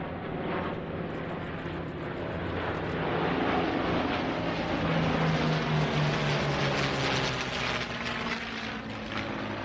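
A propeller-driven warplane drones steadily overhead at an air show, a loud continuous engine roar that swells toward the middle and then eases slightly, with no voices.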